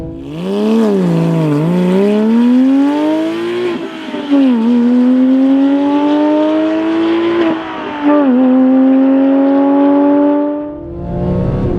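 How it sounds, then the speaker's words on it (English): A high-revving Porsche 911 997.1 GT3 engine screams on a race track through rising gear pulls, each climb broken by a brief dip at the shift, loud and close with no talking. "Listen to this engine scream."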